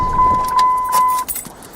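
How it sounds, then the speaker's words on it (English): A Dodge Ram pickup's ignition is switched off: a steady chime tone stops, keys jangle in the ignition, and a few brief clicks follow, close and fairly loud. "and you can shut the truck off."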